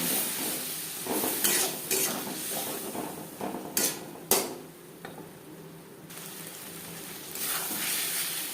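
A spatula stirs masala in a pan before potato and cauliflower go in, giving scraping, clattering strokes over a steady low sizzle, close and moderately loud, with a few sharp metallic knocks; no one speaks.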